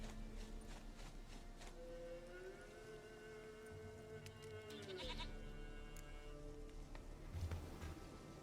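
A goat in The Witcher video game gives a long, wavering bleat, moderately loud over steady ambient game background, followed by faint further sounds.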